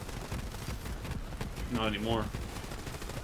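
Sustained rapid gunfire in the video game Borderlands 3 crackles in a dense, continuous stream, with a player speaking briefly over the mid-clip shooting.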